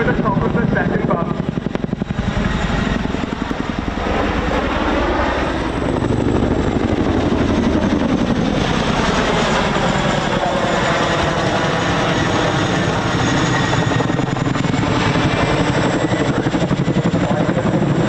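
A twin-engine Chinook helicopter performing an air show display at RAF Cosford roars loudly and steadily, its rotor thudding and engine whine rising and falling through a manoeuvre, with a commentator talking over it.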